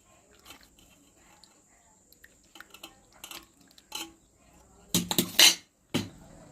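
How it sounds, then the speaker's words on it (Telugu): Bael fruit pulp is pressed through a strainer to squeeze out the juice, with soft scattered scraping and tapping, then a louder burst of metallic clattering and rubbing against the strainer near the end. "ఇప్పుడు దీన్ని ఒక స్టైనర్తో వడపోసుకోవాలి. ఇట్లా మొత్తం రసం లేకుండా ఒత్తుకోవాలి."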